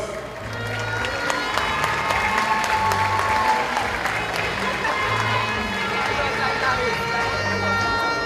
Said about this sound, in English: Oh yeah, give her a round of applause.